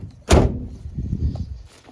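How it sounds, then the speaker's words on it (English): Passenger door of a Chevy van swung shut with a single solid thud, close and loud, followed by a brief low rumble and faint shuffling afterward. "Close the passenger door."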